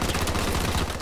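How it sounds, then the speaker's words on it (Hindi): Rapid, dense gunfire rattles continuously at close range, a constant barrage of video game shots with no pauses. "ये तो गोलियां बरसाने लगे।"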